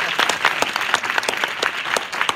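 A church audience at a book launch applauds warmly, dense overlapping hand claps filling the room in a continuous, lively burst close to the listener.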